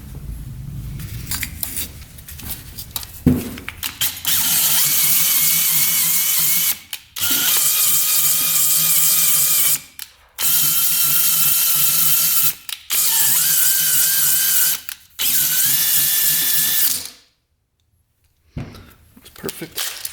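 Drill-driven hone working inside an oiled two-stroke dirt bike cylinder: loud, gritty whirring bursts of a few seconds each, separated by short pauses, with a person talking in between.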